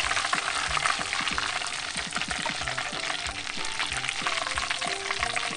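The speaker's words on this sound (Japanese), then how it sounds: "もうね、ほんとカラッとサクッとジューシーに揚がるの" Chicken drumstick karaage deep-fries in hot oil, giving a steady, close sizzle with dense crackling and popping, occasionally stirred, with no voices.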